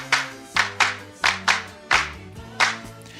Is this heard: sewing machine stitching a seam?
no